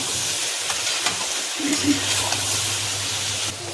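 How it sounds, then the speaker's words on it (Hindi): Beans and potato sabzi stir-fry in a pan with a constant close sizzle and hiss, broken by soft stirring scrapes and a faint murmur of speech. "2 मिनट तक इसको भून लेंगे फिर हो जाएगी।"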